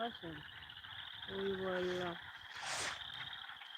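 Frogs croaking outdoors at night under a full moon, steady pulsing calls with insect-like trills running throughout, while a person talks nearby over the chorus.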